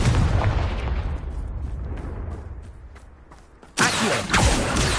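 The Confringo explosion spell in a Harry Potter video game goes off as a loud burst, first with a rumbling blast that fades, then a sharp second boom near the end.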